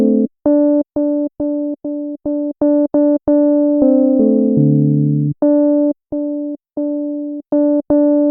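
A synthesized electric piano built in Arturia Pigments, with a velocity-controlled filter, plays short, detached repeated notes and one longer held chord that dips lower, clear and close with no other sound.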